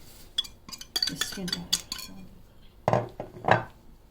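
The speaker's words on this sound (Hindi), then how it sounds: "तो चलिए जी बेसन का बैटर तैयार कर लेते हैं।" A spoon stirs and scrapes through gram flour (besan) batter with spices in a bowl, giving a series of clinking, knocking strokes in uneven bursts, close and fairly loud with no talking.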